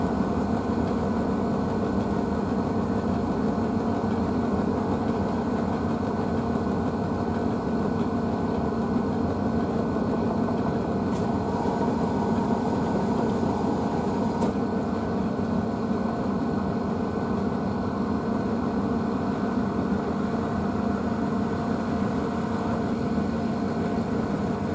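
A Blomberg washing machine spins its load of coloured bedding heavily unbalanced at about 600 RPM, a constant rumbling drone with steady mechanical noise throughout, no voices.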